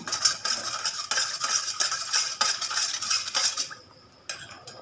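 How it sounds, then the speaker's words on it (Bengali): A spoon stirs agar agar powder into cold water, clinking and scraping rapidly against the sides of a container in a steady rhythm, close up, before stopping near the end with a final tap. "এটা ভালো করে আগারোগা পাউডার মিশিয়ে নিচ্ছি"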